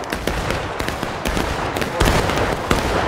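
Rapid, overlapping musket fire crackles through a Pickett's Charge reenactment, a dense run of sharp reports with a few louder volleys standing out near the end, no talk heard.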